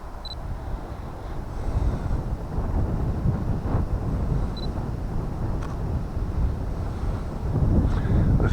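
Wind blowing outdoors on a riverside walk near the Monnow and Wye confluence, a continuous rough buffeting rumble across the microphone, moderately loud and unbroken, with a few faint clicks and no talk.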